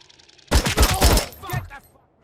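Gunfire in RoboCop: Rogue City, a sudden loud burst of rapid automatic shots lasting about a second, then a quick fading tail with faint debris.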